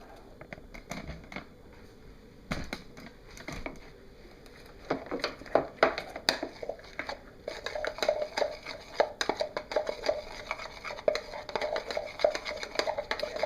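Clinking scrapes of a utensil stirring red neon colorant into oil for cold process soap, quiet at first then a steady run of light taps and scrapes against the container, with faint talk underneath.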